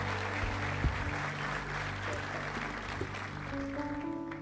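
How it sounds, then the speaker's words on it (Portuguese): Church congregation claps for the worship band during a service, a soft, moderate wash of applause over sustained keyboard chords and low organ-like tones that continue underneath. "Vamos aplaudir ao Senhor pela nossa banda."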